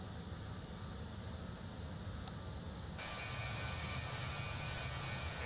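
Steady, loud engine roar fills the cabin of a BAE 146-300 airliner in Microsoft Flight Simulator 2020, a continuous broadband drone with a brief tone and a slight shift partway through, no talk.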